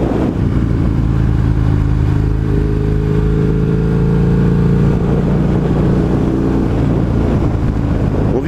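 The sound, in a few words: Husqvarna 900 Nuda motorcycle riding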